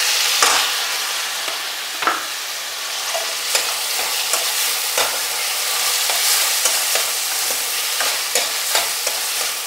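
Chopped chillies and tomatoes are stirred into a hot, sizzling tempering for whole masoor carrot dal, with a loud continuous sizzle broken by sharp scraping and knocking stirs, close and without speech.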